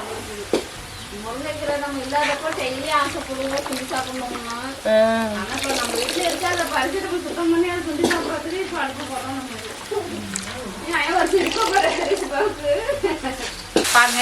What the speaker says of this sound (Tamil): எல்லாமே நல்லா எண்ணெயில் வதங்கிடுச்சு